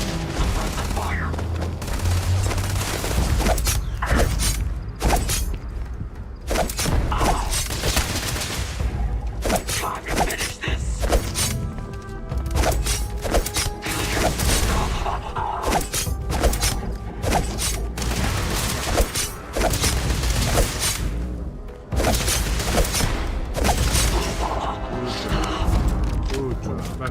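Gunfire rattles through a combat fight in the video game Starfield: dense bursts of shots, booms and thuds pile up almost continuously at high volume, mixed with game effects and occasional voices.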